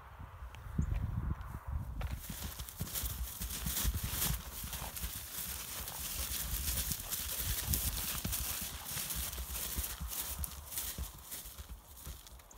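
Two horses trotting around an arena, their hooves clip-clopping in a steady, brisk rhythm that sounds close, with a faint whinny and a little distant background noise.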